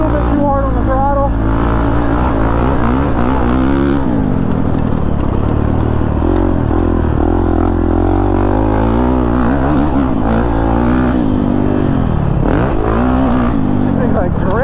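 A Kawasaki KX450 dirt bike engine revs loudly and close up, its pitch swelling and falling as the throttle opens and closes while riding, with a person talking over the engine noise.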